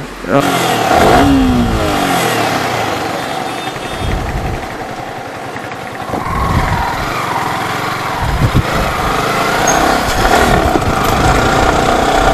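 A Yamaha YZF R15 V3 155cc motorcycle engine climbs a steep hill road at around 4000 RPM in low gears, a loud, close, continuous buzzing drone with wind noise that rises and falls as it accelerates, while a rider talks over it.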